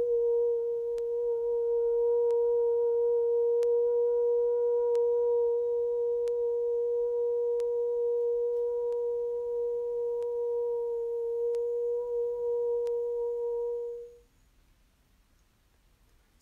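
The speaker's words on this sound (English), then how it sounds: "I'm just hearing a really high-pitched tone" A steady high-pitched sine tone holds evenly and fairly loud for about fourteen seconds alone, with faint periodic ticks, then cuts off into near silence.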